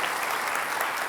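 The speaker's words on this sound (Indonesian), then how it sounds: "Kita beri aplaus untuk Pak Basuki" Applause for Pak Basuki at a televised Jakarta election debate, a dense, steady clatter of many hands clapping together for a brief burst.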